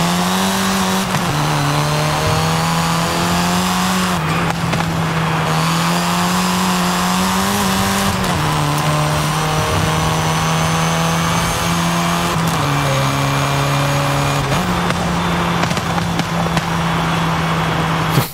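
In the Forza Horizon 5 racing game, a Brabus 800 engine revs and drones loudly and continuously, its pitch rising and dropping through repeated gear shifts, with exhaust crackles and pops between them.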